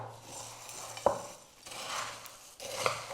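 Crumbs of baked anthill cake dough stirred together in a bowl, three soft scraping strokes with light clinks of a utensil, quiet and close, no speech.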